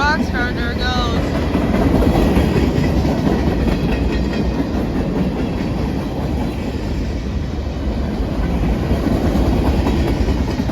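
CSX freight train M327 rolls past in the rain, its railcars clattering loudly and steadily on the track at close range, with a brief wheel squeal near the start and wet, rushing noise throughout.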